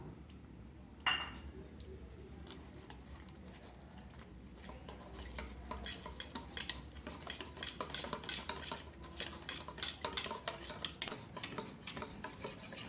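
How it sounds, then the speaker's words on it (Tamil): A spoon stirs corn flour into water in a bowl for Bombay halwa, giving quiet, rapid scraping and clinking that grows busier toward the end, near and faint, with no talking. "கட்டி இல்லாமல் கரைச்சிக்கணும்."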